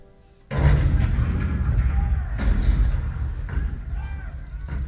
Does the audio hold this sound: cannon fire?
yes